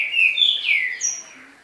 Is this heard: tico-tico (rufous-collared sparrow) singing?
yes